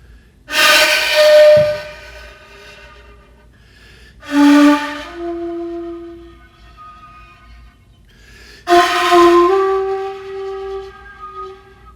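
Three breathy, airy shakuhachi bamboo flute blows, each starting with a rush of wind noise before settling into a soft tone, separated by quiet pauses.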